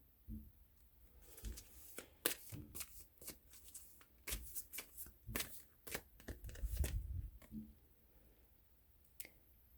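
Tarot cards are shuffled and drawn by hand, crisp riffling bursts and soft slaps in an irregular rhythm, close and quiet with no voices.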